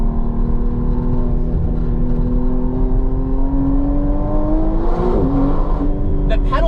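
McLaren Artura Spider hybrid engine revving loud and close, a steady droning note that rises and falls, with a sharp pitch swing near the end and brief crackling pops, voices talking over it.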